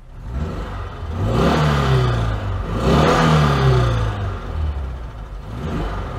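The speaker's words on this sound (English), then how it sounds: "I'm going to rev her up a bit" An Oltcit car engine revs up and eases back in two broad surges, a steady mechanical drone rising and falling in pitch, close and fairly loud.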